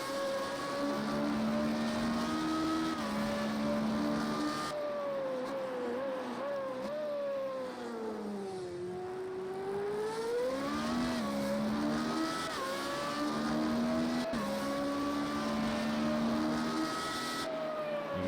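From a helmet cam, a Formula Renault race car engine screams high at the Algarve circuit, its pitch climbing and falling with gear changes and braking, then winding back up. The engine is loud, close and continuous the whole time.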